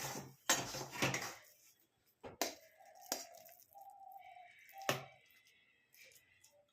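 A spoon scrapes and clinks against a metal pan as cooked begun bharta, a mashed roasted-eggplant dish, is transferred into a bowl: a few sharp close knocks, then softer scraping and smearing, with quiet gaps between.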